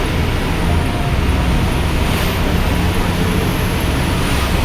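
A dump truck's engine roars loudly through an open cab window in heavy evening traffic, a constant low rumble with road noise that stays steady and dominant throughout.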